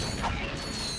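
Bolt crank being turned in the PS2 game Ratchet & Clank, a brief mechanical ratcheting creak lasting about a second.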